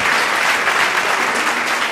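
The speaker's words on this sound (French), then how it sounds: "Ça s'applaudit, allez-y, faites-vous plaisir, allez-y" A studio audience at a late-night business talk show bursts into dense, continuous applause, loud and steady throughout with no voices rising above it.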